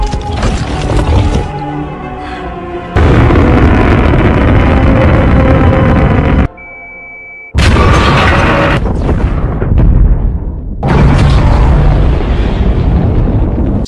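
Loud, roaring explosion blasts of an alien spaceship, a film sound effect, rumble in long, heavy bursts, cut by a brief near-silent gap with a thin tone, then more booming destruction.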